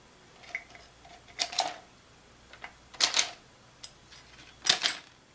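Several short, crisp scissor snips through shrink wrap around a coffee mug handle, in irregular bursts, some doubled, close and fairly quiet, with brief pauses between cuts.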